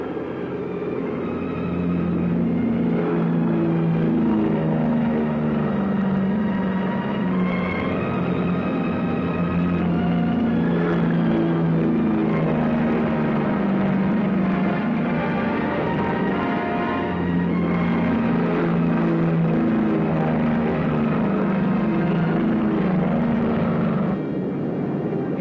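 Several World War II military aircraft throttle up for takeoff at intervals, their engines a loud, sustained droning roar with pulsing tones that swell, dip briefly and surge again throughout.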